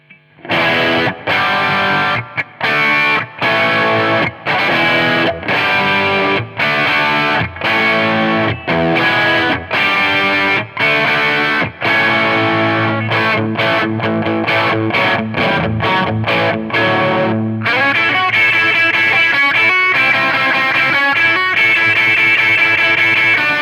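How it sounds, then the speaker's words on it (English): Electric guitar through a Pigtone English Man distortion pedal plays choppy chords with short gaps, then switches to sustained, saturated notes; loud and close with no voices. "it's supposed to be a distortion pedal, but it's suspiciously sounding like an overdrive in some ways"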